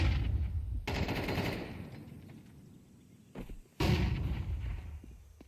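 Grenades and gunfire in a Counter-Strike 2 esports match fill the track with loud, booming blasts and sustained bursts of shots, broken by short quieter gaps.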